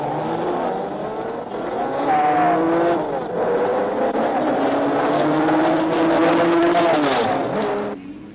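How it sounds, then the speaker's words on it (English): A 1959 Aston Martin DBR1 race car at the Nürburgring 1000 km roars steadily at high revs, its engine note rising and shifting through gears, loud and continuous throughout. "into the lead steams Sterling and the DBR1"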